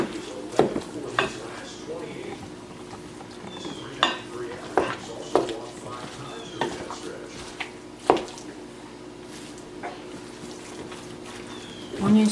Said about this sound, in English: So now we'll just mix and mix and mix.